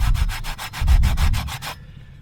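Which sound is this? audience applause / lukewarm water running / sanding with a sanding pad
sanding with a sanding pad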